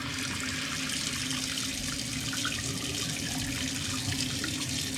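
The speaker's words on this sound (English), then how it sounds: "We have water flowing." Water streams steadily and close from a three-hole bathroom faucet after its cartridge has been replaced, an even rushing flow with no voices.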